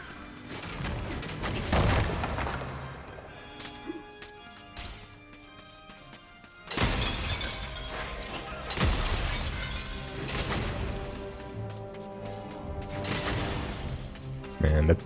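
Objects shattering as they are smashed with a club in the 2019 MediEvil video game, several loud crashing breaks scattered through a busy game soundtrack, with talk alongside.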